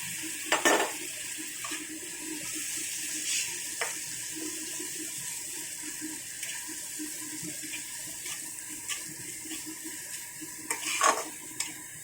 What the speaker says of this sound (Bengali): আদা আর হলুদটা ভাজা হয়ে গেছে, এখন দিয়ে দিলাম বাটা মশলাটা।